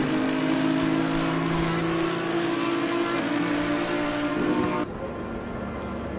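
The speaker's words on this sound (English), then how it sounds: "Now Mamster coming out in the pits and chasing the race leader." A race car leaving the pits at the Catalunya circuit, its engine droning loud and steady before the tone drops and recedes toward the end.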